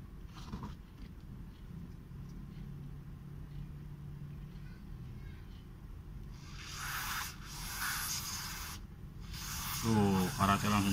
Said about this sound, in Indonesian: Kita semprot pakai WD apa namanya biar karatnya hilang.